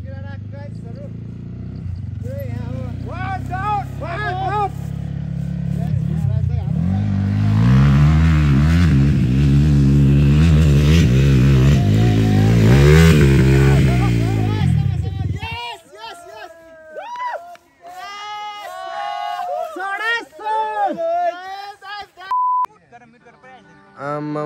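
A motorcycle engine revs and climbs in pitch on a hilly ride in Nepal, swelling loud for several seconds and then cutting off, with people talking before and after.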